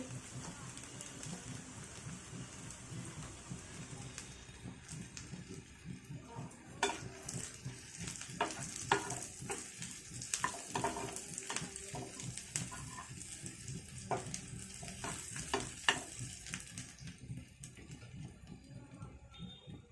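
Chopped garlic fries in a pan for Eid-style beef kala bhuna, giving a steady crackling sizzle with scattered scraping and clinking of a utensil against the pan, moderately loud and close.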